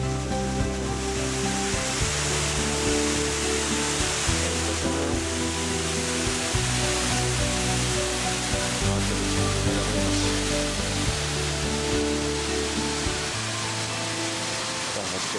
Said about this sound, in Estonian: Kosk on siin samas kõrval.